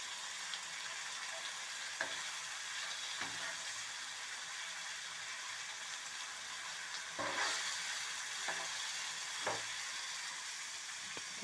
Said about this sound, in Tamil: இன்னும் கொஞ்சம் ஒரு 2 மினிட்ஸில் மீன் வறுவல் ரெடி ஆகிடும்னு நினைக்கிறேன்.